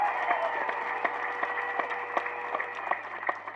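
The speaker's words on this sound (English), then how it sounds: "Please give him a thunderous applause." Audience at a Ugandan opposition rally applauds, light, irregular clapping from a modest crowd heard over a steady low hum, with separate sharp claps standing out.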